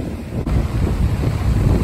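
Strong wind blows along a seashore, buffeting the microphone with a steady, heavy roar and low rumble, near and loud throughout, with no voices.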